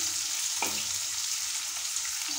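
Onions and five-spice fry in hot oil with a steady, dense sizzle. A brief clink sounds early on, and the frying continues close and even throughout.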